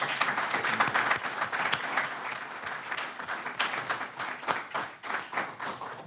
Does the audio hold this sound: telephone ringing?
no